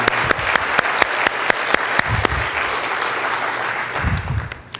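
Audience applause at an Earth Day sermon at Seattle Unity church: a steady wash of many hands clapping, dense and loud throughout, with a few sharper claps standing out, tapering off at the very end.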